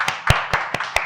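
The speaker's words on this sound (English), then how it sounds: "can we all give a big round of applause to Souniya Khurana?" Five sharp, evenly spaced claps ring out close and distinct, sounding like a handful of audience members applauding at a talk show introduction rather than a full crowd.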